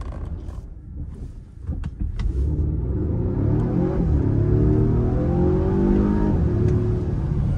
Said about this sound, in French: Ça ronronne, hein, ça souffle, on a l'impression un peu d'avoir une sonorité de V8 par moment